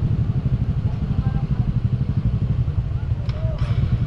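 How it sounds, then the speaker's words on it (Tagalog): Motorcycles pass on GMA-Carmona Road, their engines giving a rapid, pulsing mid-range drone at moderate distance while a person talks over the traffic. "Motor lang ang nakakadaan dito ngayon"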